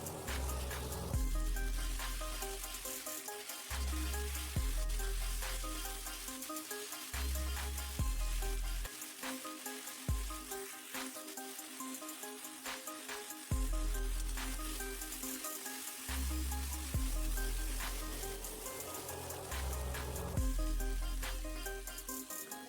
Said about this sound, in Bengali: ধুয়ে রাখা মাংসগুলিকে দিয়ে দেবো এবং কিছুক্ষণ নেড়ে চেড়ে ভালো করে এটাকে কষিয়ে নেব